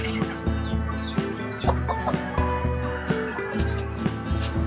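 Heritage chickens, including a four-month-old Barred Plymouth Rock rooster in a breeding pen, cluck and chatter close by, with repeated short clucks and squawks over a steady background.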